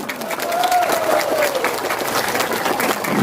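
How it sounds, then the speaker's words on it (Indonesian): Audience applause at a Pilkada 2024 political rally in Papua, steady clapping from a crowd with a faint whistle-like tone over it, sustained and fairly loud throughout. "Coba tepuk tangan dulu."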